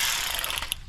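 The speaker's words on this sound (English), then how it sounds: "So let me get my ratchet." Ratchet clicking on a car transmission fill plug, a brief burst of rapid metallic pawl clicks close to the microphone.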